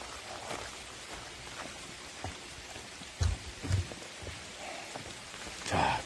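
Steady soft patter of rain falling on a surface, with a few louder drips and knocks standing out now and then.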